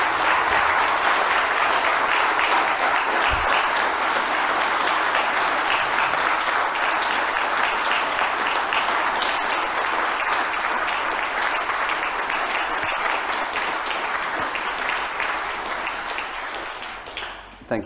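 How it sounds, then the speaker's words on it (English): A large audience at the 2022 Australian Capital Territory Australian of the Year Awards gives the nominees sustained, dense applause that holds steady for a long stretch before tapering off near the end. "please join me in giving them a round of applause"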